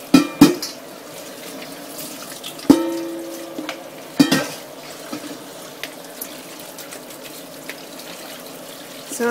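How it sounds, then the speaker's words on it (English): Water from a sink tap runs as pickles are rinsed in two strainers, with a steady trickling flow punctuated by several sharp clanks and knocks of the strainers against the sink. "Rinsing them and draining them."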